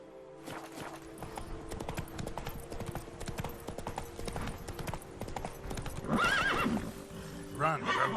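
Roach the horse from The Witcher 3 gallops with steady rapid hoofbeats close up, a loud whinny breaking in near the six-second mark and a brief snort near the end.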